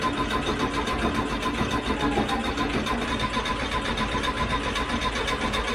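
An old, long-forgotten show car's engine cranks steadily without firing, a continuous mechanical churn at a constant level with no voices over it.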